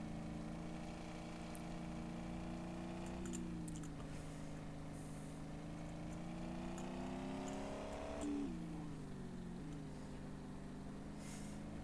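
A truck engine drones steadily in the Dealer Simulator video game, its pitch rising and falling through gear shifts and throttle changes, mid-level and continuous with no talk.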